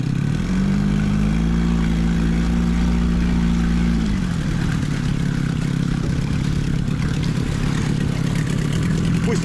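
An outboard boat motor idles steadily while warming up on a choke, a loud, close low drone with a pitch shift partway through, no talking.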